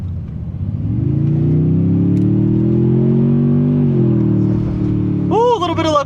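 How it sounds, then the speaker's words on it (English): A Toyota Tundra TRD Pro at half throttle gives a loud, steady exhaust rumble that swells and holds as it accelerates, with a person starting to speak near the end. "you could definitely hear much more of a rumble from that exhaust, and you can hear like boost intake noises too"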